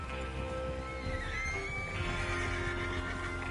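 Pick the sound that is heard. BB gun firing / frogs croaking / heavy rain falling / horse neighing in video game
horse neighing in video game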